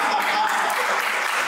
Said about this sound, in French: Applaudissez-vous déjà.